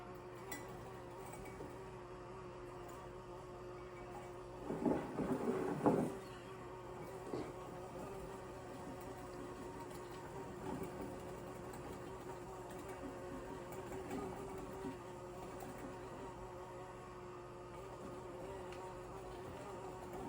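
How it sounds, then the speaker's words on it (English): An electric mixer hums steadily at low level in an indoor kitchen, a thin continuous whir with a brief louder clatter early on and no voices. "Now we're gonna turn on the mixer"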